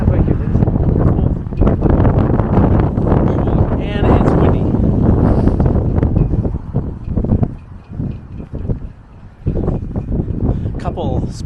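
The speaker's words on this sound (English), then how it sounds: "And it's windy." Wind gusting across a seaside promenade in Llandudno, Wales, a steady loud roar and buffeting on the microphone lasting throughout, with people talking over it.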